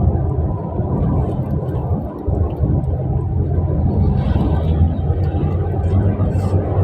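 Cars overtaking at about 100 km/h on a road, heard as a steady loud rumble of engine, tyre and wind noise that continues without a break.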